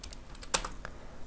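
A few soft computer keyboard keystrokes tap close by during coding, with one sharper click standing out among faint presses.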